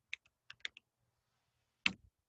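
Sparse computer keyboard typing: a quick burst of four or five close key clicks, a pause, then one louder clack near the end, recorded quietly with no talking.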